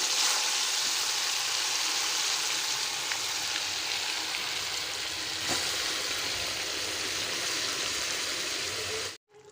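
Ground onion spice paste hits hot oil and fries in a loud, dense, continuous sizzle that holds steady close up before cutting off abruptly at the end.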